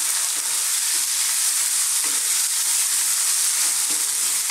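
Curry leaves sizzling and frying in a pan on high heat while being stirred, a steady loud crackling hiss throughout with faint scraping, no talk.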